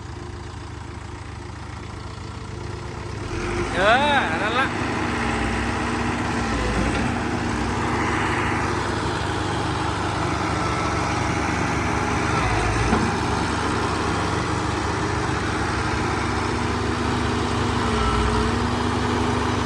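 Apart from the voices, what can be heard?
Kobelco SK120-5 excavator engine revving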